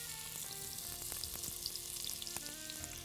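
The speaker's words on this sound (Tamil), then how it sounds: "அந்த முந்திரி பருப்பு அளவாக செவந்திருக்கும் இதில் இந்த வெங்காயத்தோடு வதங்கும் போது" Chopped onions and cashews fry in a pan for a Tamil home-style dish, giving a steady close sizzle with small stirring clicks throughout and no talking.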